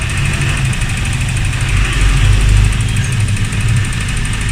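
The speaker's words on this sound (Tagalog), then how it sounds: "Engine running." A car engine idling with a snapped drive belt, so the alternator, water pump and fan are not turning; a loud, steady close-up rumble with a slight swell in the middle, no talk.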